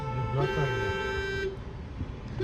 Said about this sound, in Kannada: ಯಾವ ಗಾಡಿ ಹೋಗ್ತಿಲ್ಲ, ಎಲ್ಲ ಒಟ್ಟಿಗೆ ಹಾರ್ನ್ ಹಾಕ್ತಿದ್ದಾರೆ